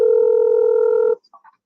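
An outgoing telephone call opens with a loud, steady tone lasting just over a second, then cuts off, leaving a few brief, faint electronic blips.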